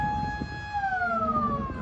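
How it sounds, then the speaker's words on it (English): A loud, steady bridge-opening warning siren wails nearby on a Greek island, its tone sliding slowly downward, with no talking. "as you can hear, the siren has started to sound"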